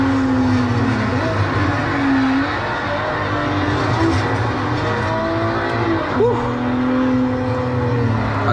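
A 2015 BMW M135 hatchback drives hard on the Nürburgring, its engine droning steadily throughout as pitch rises and falls with the throttle, with a brief voice cheering over it.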